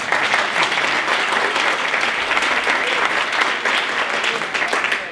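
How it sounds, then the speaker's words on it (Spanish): Dense, loud applause fills a conference hall, the whole audience clapping at once in a steady wash of sound with faint voices mixed underneath. "un fuerte aplauso, hombre."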